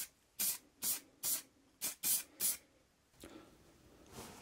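Aerosol primer and paint sprayed onto small Triumph TR7 car parts during a restoration: six sharp, close hissing bursts in quick succession, then a softer, longer spray trailing off, with no talking.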